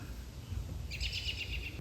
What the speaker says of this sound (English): There's a bird in there right now.